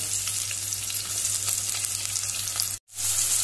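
Onion, green chillies and tomato fry steadily in a pan for Goan dry prawn curry, a close, loud, continuous sizzle with one brief break near the end.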